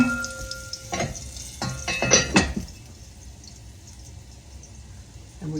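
Pork chops sizzling gently in olive oil in a pan: a soft, steady frying hiss under a few clanks of metal on the pan, then a quieter sizzle continuing alone.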